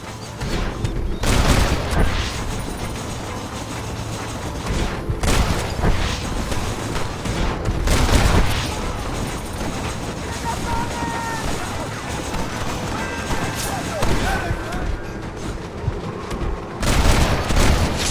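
Gunfire in the video game Red Dead Redemption, repeated loud bursts and booming shots through a busy, noisy scene, with shouted voices over the top.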